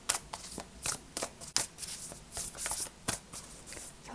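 Tarot cards are shuffled in a steady run of crisp, close riffling strokes, each burst of papery flutter quickly following the last with no voices.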